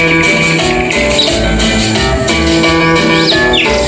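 Cumbia music with electronic bird chirp and whistle effects woven through a dense, loud, steady groove of bass, percussion and keyboards, the short tweeting sweeps riding high over the beat.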